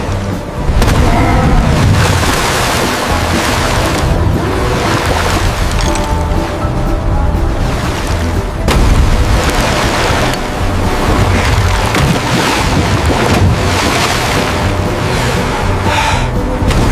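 A commercial fishing boat's engine runs at sea in a loud, steady, continuous rumble, with heavy low-end drone and wash of wind and water around it, no voices.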